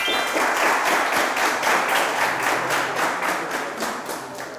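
Applause from a game show audience in a studio, lively rhythmic clapping from a crowd that stays strong and slowly tapers off.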